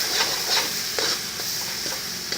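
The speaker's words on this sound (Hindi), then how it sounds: "मसाला हमारा फ्राई हो चुका है" Masala for Mithila-style fish curry sizzling in a pan while a spoon stirs through it, a continuous close frying hiss broken by repeated soft scraping strokes, with no voices.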